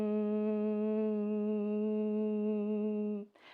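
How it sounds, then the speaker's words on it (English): A steady, sustained hum from a voice doing Brahmari breathing, one long even buzzing tone held for about three seconds before it stops with a short breathy exhale. "which is just inhaling and exhaling with a humming sound"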